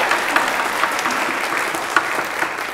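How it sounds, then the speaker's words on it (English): Audience applause at a spring choir and world music ensemble concert, steady crowded clapping with a few sharper individual claps standing out, fairly close and continuous. "Yes, applause for teaching."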